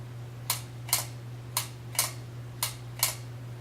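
Vintage all-metal box camera with its shutter set to instantaneous fires six times in a steady rhythm, each release a sharp, crisp click over a low constant hum.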